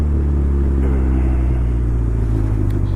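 A DF Goblin kit car drives on the road, its engine droning as a loud, steady, deep rumble with a constant low hum throughout.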